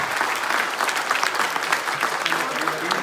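An audience applauds steadily throughout, a dense, even wash of many hands clapping with no pauses.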